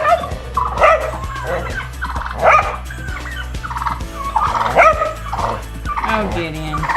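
Turkeys gobble in repeated bursts at close range on a farm, with a dog also present, the calls rising and falling in bursts about every second over a steady low hum.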